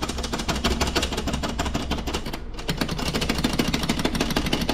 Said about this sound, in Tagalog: Ang nagiging problem ko lang dito sa mga aluminum top box, maingay.